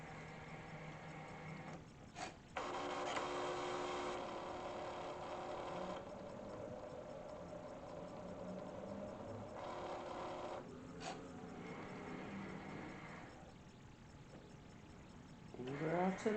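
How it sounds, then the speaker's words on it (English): Electronic cutting machine scoring a poker card box template, a steady mechanical motor whir with shifting tones as the carriage moves, starting and stopping in stretches at close range. "The second one we're going to have to put in our cutting tool, and then now it's about to score."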